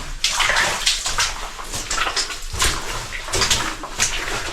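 Water rushes and splashes steadily downhill through a mine tunnel in a continuous, fairly loud flow that echoes slightly, with no voices present.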